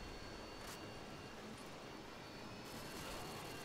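In the video game Modern Warfare 2, a Harrier jet roars overhead as a broad, steady jet-engine rush that swells slightly near the end, with no one talking.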